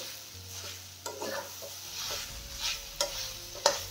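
A spoon scrapes and stirs thick gram flour pithla in a pan over low sizzling, with a few sharper clinks against the metal, steady and close with no voices.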